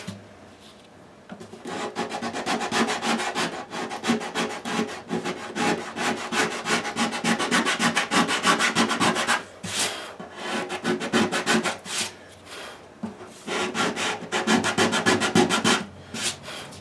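A 1976 Martin D-28 guitar neck being sanded by hand with stiff 120-grit sandpaper, a steady run of close, raspy back-and-forth strokes with a couple of short pauses, no talking.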